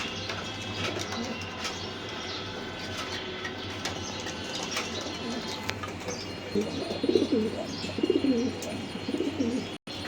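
Racing pigeons cooing in a loft, soft repeated throaty coos that grow louder in the second half over a steady background hum and faint mechanical clicks.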